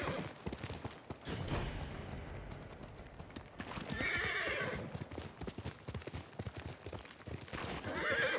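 A horse in Ghost of Tsushima neighs in two clear whinnies over a steady clip-clop of hooves, close and prominent, with a brief spoken line at the start.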